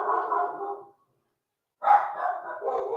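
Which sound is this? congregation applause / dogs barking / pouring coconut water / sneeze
dogs barking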